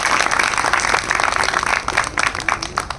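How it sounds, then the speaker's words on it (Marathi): An audience at a lecture honouring Savitribai Phule breaks into applause, a dense, loud burst of many hands clapping that stays steady for a few seconds and then thins into scattered claps. "टाळ्या वाजल्या पाहिजे."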